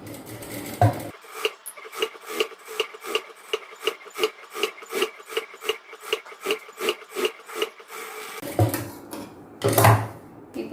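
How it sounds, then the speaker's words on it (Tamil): A sewing machine runs a steady burst of rapid stitches around a blouse lining, a rhythmic mechanical chatter lasting several seconds between quieter handling noises at the start and end. "இந்த சுற்றி இருக்கிற இடத்துல நான் தையல் போட்டுக்கிறேன்"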